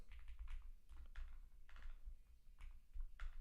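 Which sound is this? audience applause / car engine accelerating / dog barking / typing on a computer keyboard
typing on a computer keyboard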